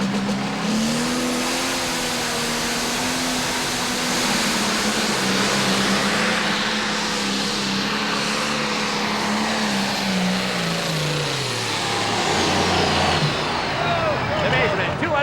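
Pro stock John Deere pulling tractor, the Nightlife, roars loud and steady through a long pull at a tractor pulling event, its engine note wavering and climbing near the end over a constant crowd and arena din.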